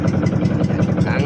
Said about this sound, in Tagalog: ayan, kumandar na ang ating makina.